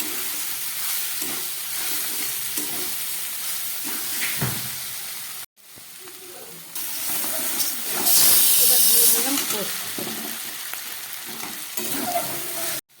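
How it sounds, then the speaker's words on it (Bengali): Coconut and poppy seed paste fries in a pan with a loud, steady hiss and sizzle. A sharp clatter and a brief gap break it midway, then an intense burst of sizzling follows. "পেস্ট করা এই যে নারকেল নারকেল দিয়ে আবার একটু ভেজে নেবো"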